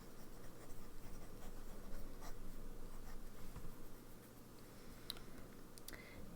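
Esterbrook SD Lilac fountain pen with a journaler nib scratching across paper, a faint continuous nib scratch with soft strokes and a couple of brief ticks, close and quiet.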